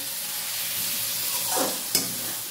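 Boal fish curry sizzles and hisses steadily in a hot pan, with a brief stirring scrape midway and a sharp clink near the end.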